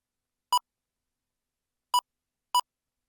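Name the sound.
XP ICON X metal detector beeping on the beach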